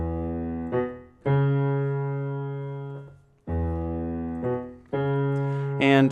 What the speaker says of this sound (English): But there is this cool bass line that I want to show you.